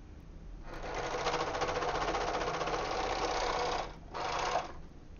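A serger overlock machine stitching small fabric ties, a close, fast, steady mechanical whirring buzz that runs for about three seconds, stops briefly, then resumes for a short final burst.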